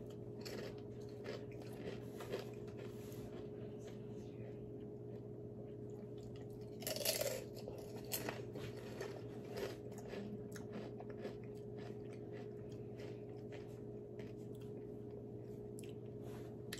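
Someone chews a mouthful of homemade salsa close up, making soft, moist biting and mastication sounds over a steady low indoor hum, with one louder crunchy moment midway.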